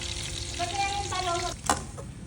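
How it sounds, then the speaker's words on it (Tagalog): Garlic rice with leftover Spam frying and being stirred in a pan: a steady close sizzle with scraping stir strokes, and a few sharper clanks near the end. "Nagluto tayo ng garlic rice."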